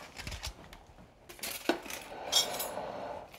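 Metal utensil scraping and clinking against a dish while scooping out a beefed-up mac 'n cheese meat pie, a handful of close scrapes and taps in a quiet kitchen.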